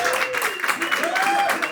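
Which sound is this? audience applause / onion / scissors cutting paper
audience applause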